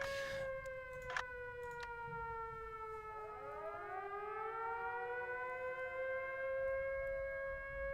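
A wailing air raid siren in the IL-2 Sturmovik: Battle of Kuban flight sim drones steadily, its pitch sliding down and then rising again, with a few faint clicks early on.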